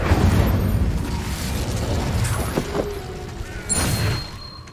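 An Incendio fire spell cast in Hogwarts Legacy, heard as a dense rumbling whoosh with several bursts and pops over a steady low roar, loudest at the start and swelling again near the end.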